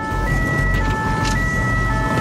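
An ambulance siren wails while the vehicle speeds through back country to an emergency near Bayonne, a steady sustained tone heard loud from inside over heavy road and engine rumble.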